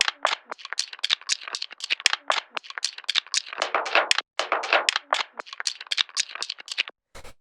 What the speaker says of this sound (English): Then we have this Foley percussion.